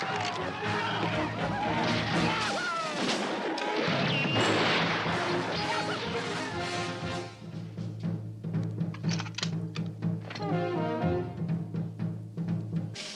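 Gunfire and crashes from six-guns in a Western movie trailer starring Don Knotts, loud bursts mixed with music and commotion, with voices underneath.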